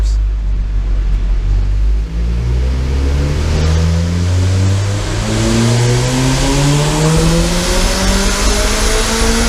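A turbocharged van pulls hard on a dyno during a power run, the engine note climbing steadily through the revs in a loud, close, continuous drone that rises in pitch throughout.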